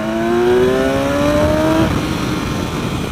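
A 2016 BMW S1000XR motorcycle engine accelerates hard with the throttle held open, its rising, harmonic-rich whine climbing loudly for nearly two seconds before shifting into a steady roar.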